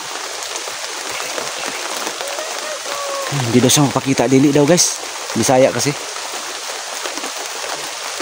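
Heavy rain pours down in a constant dense hiss from start to end, with people talking for a few seconds partway through.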